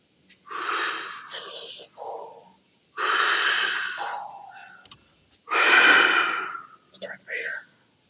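A voice imitates Darth Vader's breathing with slow, raspy, hissing breaths in about three long cycles, close up, with short breathy noises between them.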